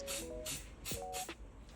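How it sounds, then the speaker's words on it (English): Short bursts of spray paint hiss onto a freshly sanded cosplay piece in quick succession, about four close spurts with brief pauses between, alongside faint tonal squeaks. "I use spray paint right after sanding in this case because the surface is quite even"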